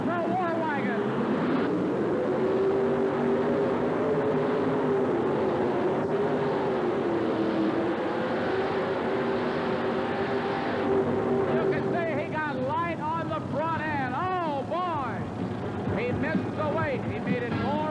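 Supercharged modified tractor of roughly 6,000 horsepower making a pull at a tractor pulling event, a sustained loud engine roar with shifting pitch, under continuous commentator speech.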